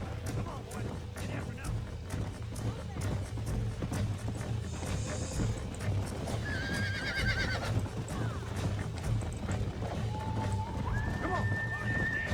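Horses in the Western video game Red Dead Redemption neigh and whinny over steady galloping hoofbeats during a lasso roundup, the animal calls rising clearly above a busy game mix with talk throughout.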